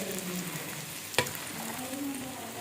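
Egg-soaked bread cooking in a pan over low heat, a quiet, steady sizzle with a single sharp tap partway through, no voices.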